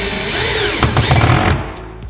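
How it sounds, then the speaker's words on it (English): A power drill drives pocket screws into a pantry cabinet, a loud close whirring burst that rises and then cuts off after about a second and a half. "you want to have your drill set on a low clutch, and make sure you're not over driving the screws through the other side"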